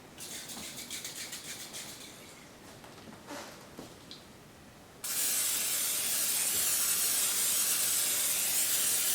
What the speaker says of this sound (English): I'm going to be spraying my frying pan with pound spray